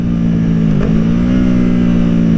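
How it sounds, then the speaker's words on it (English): An R3 streetfighter motorcycle engine drones loudly and steadily up close, its pitch dipping briefly with a slipper clutch slip, then holding a constant revving hum. "You can hear that slip. God, that freaking slipper clutch"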